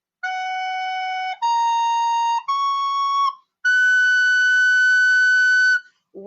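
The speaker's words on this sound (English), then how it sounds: "I have my tea whistle here," A tin whistle is blown in four sustained notes, each stepping higher in pitch, with clear tones separated by short gaps and the last note held longest.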